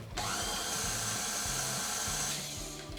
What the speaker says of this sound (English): Then I'm going to mix that on high until it's nice and smooth.